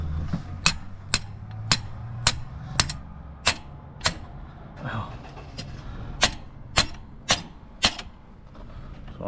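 Sharp metallic hammer strikes on a hot part of a RAM truck engine that is leaking coolant, about a dozen whacks in an uneven rhythm with a brief pause midway and low background rumble.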